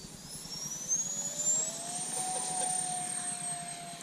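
Freewing A-10 Thunderbolt II twin 64mm EDF RC jet on its takeoff run, with a steady high whine of ducted fans rising in pitch as it accelerates, moderately loud over outdoor rumble.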